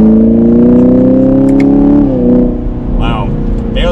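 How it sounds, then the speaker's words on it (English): A 2021 Chevrolet Camaro 2SS V8 drones loudly from inside the car as it accelerates, its steady engine tone rising and then dipping around a gear change, with a person talking over it. "The engine has so much girth to it, such a good sound."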